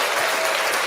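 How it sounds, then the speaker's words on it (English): Applause from a crowd in the background, a brief burst of steady clapping that fills the moment without any voices. "That background clap was unnecessary, but understandably so"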